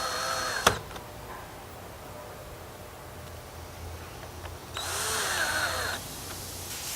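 A power drill drives screws into a door astragal panel, with a short click followed by a steady whir and a louder drill burst near the end over a constant background hiss.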